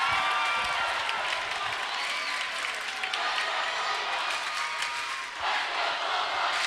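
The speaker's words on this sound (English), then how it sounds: "There's the crowd really getting into it" A basketball crowd at a 2013 high school playoff game between Sterling and Haddonfield cheers and applauds loudly and steadily, a dense roar of clapping and shouting that fills the whole stretch with only a brief dip near the end.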